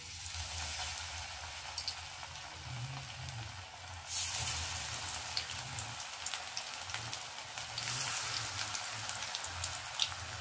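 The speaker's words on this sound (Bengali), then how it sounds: "এইভাবে ছোট ছোট করে আমি গরম তেলে দিয়ে দিচ্ছি।" Small spoonfuls of shrimp fritter batter, made without garlic, sizzle steadily in hot oil, with a louder hiss surging up twice as fresh batter drops into the pan.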